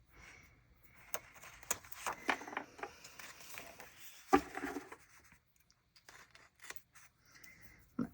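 Scissors snip through washi tape in a quiet room, a series of small crisp cuts and paper rustles spaced irregularly, close and soft.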